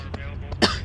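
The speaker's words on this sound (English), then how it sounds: "Got a bit of a cough." One sharp, close cough from a man at a microphone bursts out near the end, with fainter throat noises just before it, over a steady low background hum.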